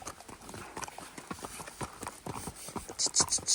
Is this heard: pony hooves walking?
yes